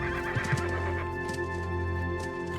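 Forest ponies whinnying outdoors, a neigh rising over a steady background hum, with a few soft hoof clops early on.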